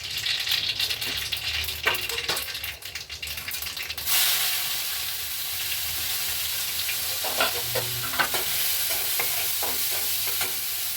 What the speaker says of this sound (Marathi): आता इथे फक्त जिरा आणि मोहरीची फोडणी, बाकी काहीच नाही.